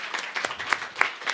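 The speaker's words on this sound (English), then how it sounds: "Round of applause" An audience applauds in a church service, with dense, steady clapping from many hands at close range and no talk.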